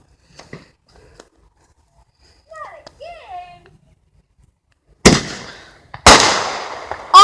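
Consumer fireworks going off outdoors: two loud, sharp bursts close by, each followed by crackling decay, after scattered faint pops and brief excited voices of adults and children.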